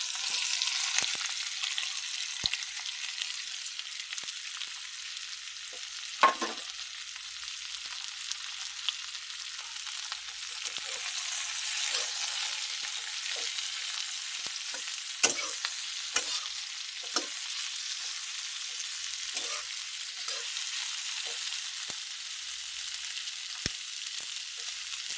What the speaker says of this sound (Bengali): এখন বিরিয়ানি বানানোর জন্য পেঁয়াজের পেস্তাটা ভেজে নেব